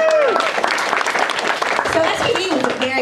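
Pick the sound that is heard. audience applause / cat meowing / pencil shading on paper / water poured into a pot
audience applause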